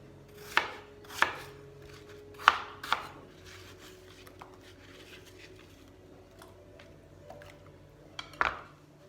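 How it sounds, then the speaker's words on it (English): A knife dices fruit into cubes on a cutting board for a crumble, with about seven sharp, separate chops spaced irregularly and quiet gaps between them. "what I'm going to do now is just dice them into cubes"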